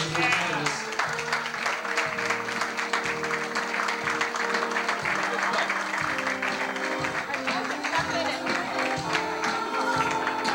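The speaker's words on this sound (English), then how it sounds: "How about a nice round of applause as they join us?" Steady applause from a crowd at a 175th birthday party fills the room over music, continuous and moderately loud, with voices mixed in.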